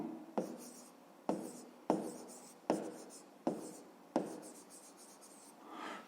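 Pen writing on paper during a fifth-grade maths lesson, six distinct close strokes or words in a regular rhythm, each a sharp scratch fading quickly, in a quiet room.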